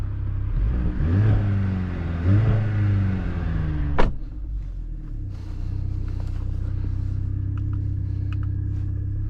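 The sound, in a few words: Mercedes-AMG C 43 engine revving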